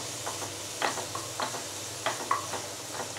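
Beans being stirred in a hot pan for chicken fried rice, a soft continuous sizzle with a handful of spatula scrapes and light knocks, close and unaccompanied by voices.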